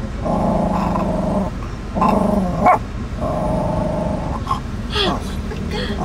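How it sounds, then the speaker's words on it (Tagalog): A small pet dog growls and barks close by in short angry bursts, a couple of sharper yips breaking through near the end. "Tumatahol na."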